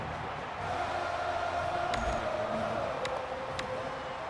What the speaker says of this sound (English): I really do like hearing when the crowd does that